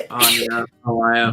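A sharp human sneeze bursts out near the start, followed by a short pause and then a voice speaking, close and loud.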